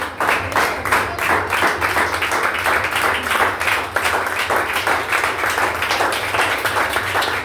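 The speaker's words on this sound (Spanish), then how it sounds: "Denle un fuerte aplauso al Señor." A church congregation applauds loudly, many hands clapping in a fast, dense, continuous patter that stays steady for several seconds with no speech over it.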